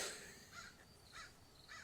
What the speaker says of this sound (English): Hey, crows! I'm trying to record.